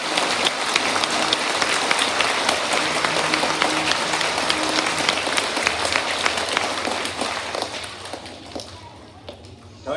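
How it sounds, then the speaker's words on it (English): Sustained applause from a school assembly audience honoring veterans, a dense wash of many hands clapping for about eight seconds before tapering off, with some voices mixed in. "Let's do one more round of applause for our veterans of honor"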